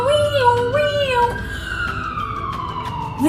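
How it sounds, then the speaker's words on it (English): A loud siren wails in a children's story about a shaking excavator, rising and falling at first, then a long, steady tone that slowly falls in pitch, with no talking over it. "What is that loud siren?"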